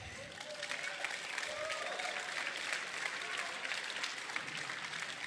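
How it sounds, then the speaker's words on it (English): Steady applause from a prizegiving audience, a dense wash of clapping that holds evenly for several seconds with a faint voice briefly audible underneath. "All right, another round of applause."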